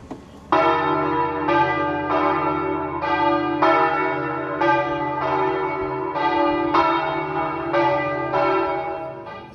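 A church bell from the 1840 bell tower in Lucca rings in a steady, evenly spaced series of loud, resonant strokes, each tone lingering into the next.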